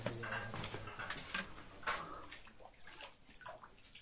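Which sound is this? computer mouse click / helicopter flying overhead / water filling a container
water filling a container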